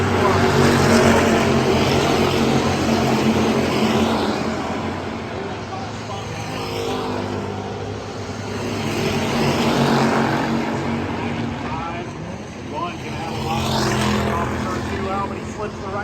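Hobby stock race cars roar around a speedway during a feature race, engine noise rising and falling as the pack passes, with a race announcer talking over it throughout.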